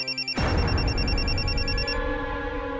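A telephone rings with a repeating electronic tone, then a loud dramatic boom-like swell cuts in and the ringing continues faintly underneath for a couple of seconds.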